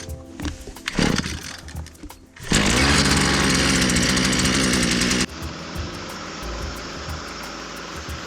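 A small two-stroke brush cutter engine, newly fitted with a changed blade, sputters, then roars loudly at full throttle for a few seconds before dropping to a steady, lower idle.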